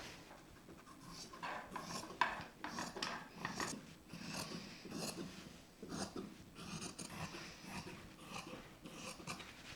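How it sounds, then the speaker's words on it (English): Scissors cut a fabric rectangle, snipping and rasping through cloth in repeated short strokes, quiet and close with a soft scraping texture. "we'll just cut that rectangle out"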